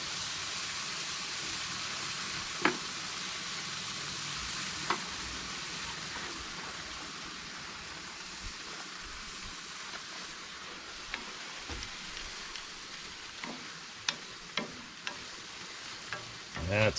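Pork chops frying in a cast iron pan, giving a steady dense sizzle throughout, with occasional sharper pops and small crackles rising out of the hiss toward the end.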